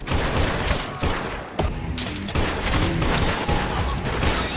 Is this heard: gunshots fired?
yes